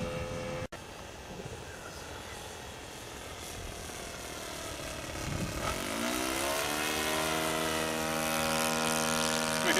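A 50-size RC Cessna 182 model airplane makes a flyby, its engine drone faint at first, then swelling into a steady, louder buzzing tone as it passes closer.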